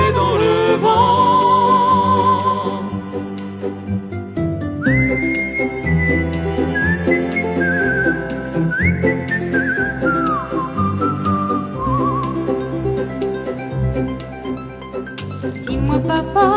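A person whistles a melody within a French song, clear and prominent over layered instrumental backing, with sliding, sustained notes carrying through the middle of the passage.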